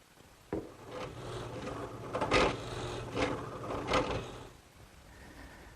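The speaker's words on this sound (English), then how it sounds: "now I'll switch to a 3/4 inch bit and drill the hole for the side stretcher" A drill with a 3/4 inch bit bores into wood for a ladder-back chair's side stretcher, giving rough grinding bursts in a few surges over a low workshop hum, with no talking.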